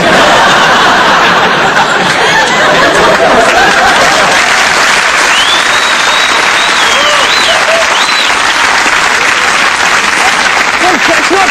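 A comedy show audience claps steadily and loudly throughout a stand-up routine about broken luggage, with scattered laughter and chuckles mixed into the sustained applause.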